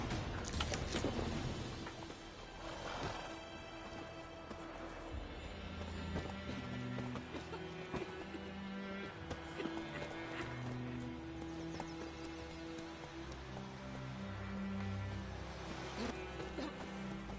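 Hooves clip-clop steadily as a horse gallops in The Witcher 3, a rhythmic galloping that runs throughout with faint neighing, no talk over it.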